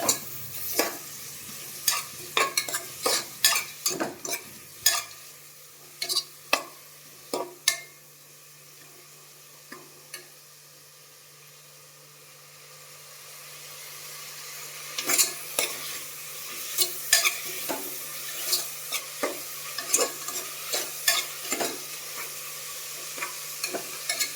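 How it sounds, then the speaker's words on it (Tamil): Onions and green chillies sauté in a pan, a low sizzle broken by repeated sharp spatula taps and scrapes in quick bursts, with a quieter stretch in the middle and no voices. "வெங்காயமும் பச்சை மிளகாவும் போட்டுக்கலாம். நல்லா வதங்கணும் கொஞ்சம்."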